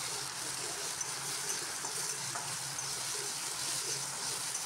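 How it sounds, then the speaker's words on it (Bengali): Onion sizzling in a hot pan of oil, a steady soft hiss and crackle holding evenly for several seconds with no talking. "এখন আমি ভালো করে এই পেঁয়াজটা দিয়ে আর এটাকে সুন্দর করে আমি ভেজে নিচ্ছি"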